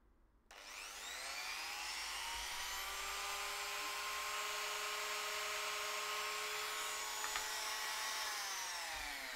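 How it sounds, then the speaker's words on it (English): A bench buffing wheel on its slowest setting, loaded with Autosol compound, polishes an air rifle trigger. It spins up after a brief quiet start into a steady, loud motor whine that holds throughout, with no talking. "we put a tiny bit of our buffing compound, auto sole, not the other one, on the buffing wheel. I put it on its slowest setting."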